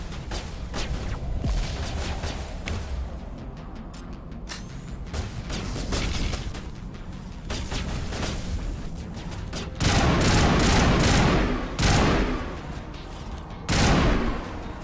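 Gunfire in the video game Mass Effect: repeated bursts of shots ring out across the whole stretch, with loud heavy volleys near the end and mechanical game effects between them.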